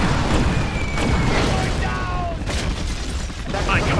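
Explosions of war factories in Command and Conquer Generals, a dense rumbling barrage of booms and blasts filling the scene without pause, with a voice speaking over it.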